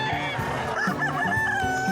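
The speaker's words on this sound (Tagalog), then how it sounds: "Ito, mga manok naman yung makikita dito." Chickens at the Bocaue pet market in the Philippines cluck and crow loudly and close by, with overlapping calls and a rooster's drawn-out crow over steady background clucking.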